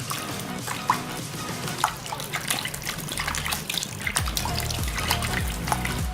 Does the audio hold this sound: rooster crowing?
no